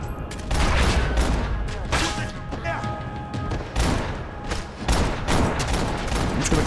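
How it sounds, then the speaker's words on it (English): Rapid gunfire crackles through a firefight in the Max Payne 3 video game, dense overlapping shots and bursts running loud and continuous for the whole stretch. "I'm just gonna keep shooting"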